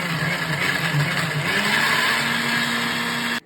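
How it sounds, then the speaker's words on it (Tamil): An electric mixer grinder whirs loudly and steadily as it blends mango leaves with ginger, chilli, salt, sugar, water and ice, a close, continuous motor drone with a slight shift in pitch before it abruptly stops. "நல்லா மிக்சியில் நைஸாக அரைச்சி எடுத்துக்கலாங்க."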